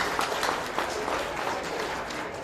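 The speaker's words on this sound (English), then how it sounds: "So let's give them a huge round of applause." Crowd applause after a presentation of the Dancy Grannies at the Milwaukee St. Patrick's Day parade, outdoors, steady mid-distance clapping from many people, fairly dense and even throughout.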